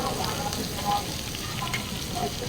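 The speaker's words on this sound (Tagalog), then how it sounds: "Kumukulo-kulo na eh." Hot pot broth in a restaurant bubbles and sizzles softly and steadily, a faint close crackle with no talking.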